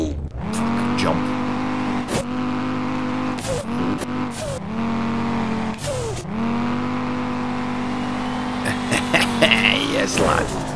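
An Audi TT drift car in the racing game SLRR revs loudly and repeatedly, its engine note climbing and dropping between gear shifts, with bursts of tyre squeal as it slides.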